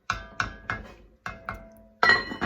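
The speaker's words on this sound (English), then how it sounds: "put the lid back on" Metal lid clattering onto a soup pot of simmering Tuscan onion soup, a series of sharp ringing clinks and taps, five or six distinct hits followed by a louder final settle, close and clear.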